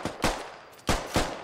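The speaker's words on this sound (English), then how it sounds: "Silas takes a few shots at Fulcrum" Gunshots from the Squad Ops video game sound as four sharp, fairly faint reports in quick succession, with short gaps between them.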